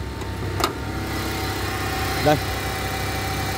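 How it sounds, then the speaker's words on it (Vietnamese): A Mitsubishi Zinger with automatic transmission idles steadily and smoothly, with a low even engine hum close by throughout, while someone speaks briefly over it. "Máy nổ thì rất là êm, không có một tí rung giật gì cả này."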